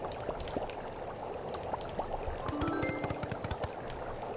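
Cooking effects from the video game Overcooked 2 in two-player mode: a steady bubbling, sizzling wash with scattered sharp chopping clicks throughout, plus a brief tonal chime midway, all at a moderate, even level with no voices.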